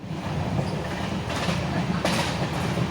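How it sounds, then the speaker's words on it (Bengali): Goods train rolling past alongside a moving Sealdah–Jalpaiguri express, a steady continuous rumble of wagons with faint rhythmic rail clatter, close and sustained, with muffled voices in the background. "দেখো মাল ট্রেন চলে গেল পাশ থেকে"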